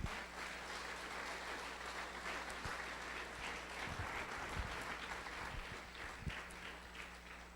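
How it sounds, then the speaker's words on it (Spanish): Congregation applauding steadily in a church during a Spanish-language Bible lesson, a dense continuous wash of clapping with a low steady hum beneath and a few louder thumps. "Dele fuerte ese aplauso a él."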